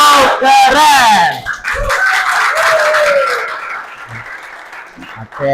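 A classroom audience claps and shouts "wow" in unison during a rhythmic clap-and-chant routine, with a leader's voice calling out and a crowd answering loudly at close range.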